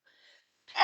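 A single sharp, close sneeze bursts out at the end after a faint breathy inhale, with no talk alongside.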